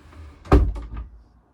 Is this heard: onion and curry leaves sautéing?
no